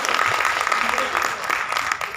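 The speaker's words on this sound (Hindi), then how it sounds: "ज़ोरदार तालियां तो बनती हैं भाई" Applause from a concert audience in a Parel hall after a guitar-led song, a dense, steady patter of clapping lasting about two seconds with some voices mixed in.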